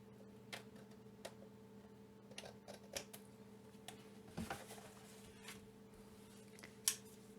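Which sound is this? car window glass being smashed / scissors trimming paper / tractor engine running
scissors trimming paper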